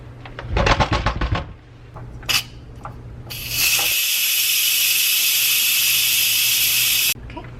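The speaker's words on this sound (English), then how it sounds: "All my steam is released." A few clicks and rattles, then a loud continuous hiss of steam rushing from an Instant Pot pressure cooker valve for several seconds before cutting off abruptly.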